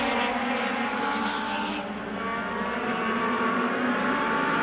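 Race cars lap a racetrack in a roaring, steady engine drone that sweeps slightly as the cars pass, loud and continuous throughout with no clear talk.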